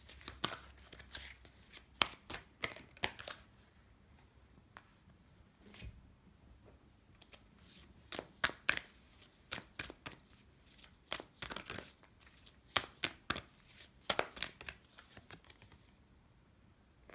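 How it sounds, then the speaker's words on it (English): Tarot cards are shuffled and pulled from several decks, producing sharp papery snaps, riffles and taps in irregular clusters, close and fairly quiet, with no talking. "Let's pull a couple more cards from different decks"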